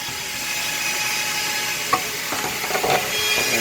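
A small power sander works over wood while building a bottom box for a DeWalt planer stand, giving a steady, close, rasping whir with a few brief scraping bumps toward the end.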